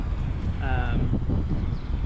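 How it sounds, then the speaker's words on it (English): Steady low rumbling wind buffeting the microphone throughout during a DEERC DE22 drone flight, with a brief tonal hum rising briefly in the middle. "It's very windy today"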